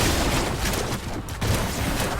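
Raynor's gunfire hitting Diablo in Heroes of the Storm, a dense, continuous burst of game shots and impacts over busy battle noise, loud and steady with a brief dip in the middle.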